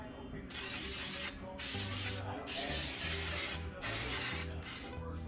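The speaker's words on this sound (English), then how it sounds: "we're gonna take and spray some Baker's Joy" Several short bursts of Baker's Joy baking spray hiss close by into a cake pan, separated by brief pauses, with faint clinks and light background noise between them.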